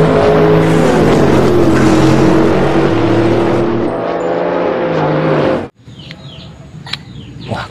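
A toy race car gives a loud, steady motor whine with engine-like revving that holds for about five and a half seconds, then cuts off abruptly into quieter background noise.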